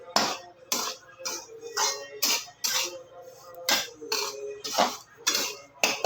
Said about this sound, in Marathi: आता इथे मी तूप टाकलेलं आहे आणि त्याच्यात मस्त असा छान असा रवा भाजून घेते आहे मी